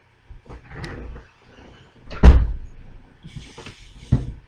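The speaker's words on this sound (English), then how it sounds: "My door does not want to stay closed today." A door that won't stay shut knocks and clatters in a few irregular bumps, one sharper bang near the middle and a smaller knock near the end, close by with no talking.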